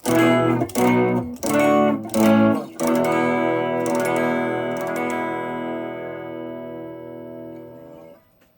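An electric guitar on its bridge pickup runs through a low-gain amplifier with slight breakup. Several loud strummed chords come first, then a final chord rings out and slowly decays, with no voices.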